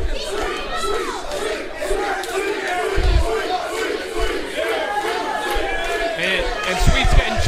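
A wrestling crowd cheers and shouts throughout, many voices yelling at once in a loud, dense roar with sharp individual whoops rising above it.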